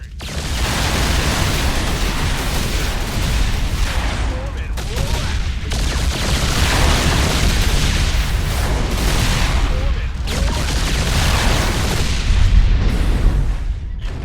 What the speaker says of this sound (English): It's armed with 2 powerful missiles that it can use to engage enemy capital ships.